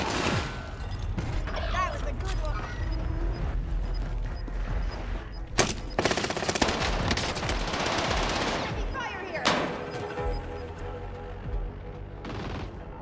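Rapid automatic gunfire from a gun in the Warzone video game, loud sustained bursts and fusillades with heavier booming shots around the middle, with a voice talking over the action.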